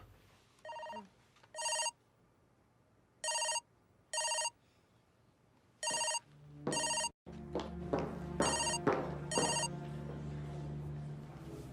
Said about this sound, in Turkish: Telefonun çalıyor galiba.